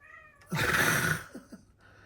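A house cat lets out one loud, drawn-out meow close by, followed by a couple of short, softer chirping mews.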